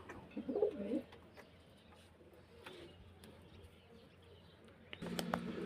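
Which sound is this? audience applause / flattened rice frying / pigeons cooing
pigeons cooing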